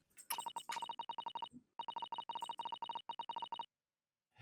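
Two alternating electronic tones from a disc recording in The Great Ace Attorney, pulsing in rapid Morse-like bursts, clean and steady, with a brief pause midway and silence at the close.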